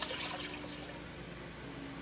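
Water poured into a pan of browned ground beef with a bouillon cube, a soft continuous splashing and trickling that fades slightly, heard fairly quietly without talk.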